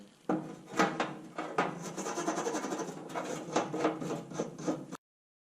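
A brass brush scrubs solvent-soaked truck shock bolts in rapid, rasping back-and-forth strokes, close and continuous for about five seconds before cutting off abruptly.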